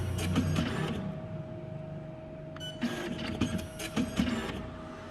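PLQ35 passbook printer running during setup, a loud close mechanical whir and buzz of the print head, with rattling bursts of motor and feed noise, no voices.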